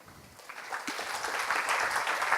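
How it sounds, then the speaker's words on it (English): At an academic talk session on distributed parameter estimation, the audience applauds the session speakers; the clapping starts sparse and quiet, then builds into fuller, denser applause that holds until the end, with no voices. "let's have a round of applause for all the speakers in the session"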